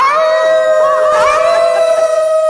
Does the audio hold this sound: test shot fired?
no